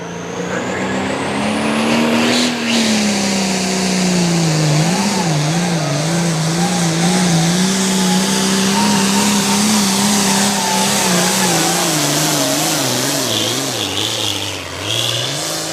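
A pulling tractor called Bullet T roars at a truck and tractor pull in South Boston, its engine screaming loud and close with a wavering, surging pitch held for a long sustained run before briefly dipping near the end.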